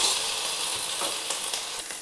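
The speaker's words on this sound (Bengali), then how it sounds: "এখানে আমি 3 চামচের মতন আদা রসুনের পেস্ট দিলাম। এটাকেও ভালো করে ভেজে নিচ্ছি।" Ginger garlic paste, about three spoonfuls, fries in a pan for a chicken korma, giving a steady, close hiss of sizzling with faint stirring clicks throughout.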